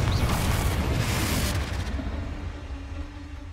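A Confringo spell blast in Hogwarts Legacy: a loud, close, broad booming burst that rumbles for about a second and a half and then fades into a softer hissing tail.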